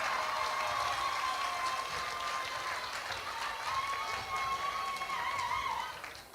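A concert crowd applauds and cheers in a dense, continuous wash of clapping and voices that stays loud throughout, fading slightly at the very end.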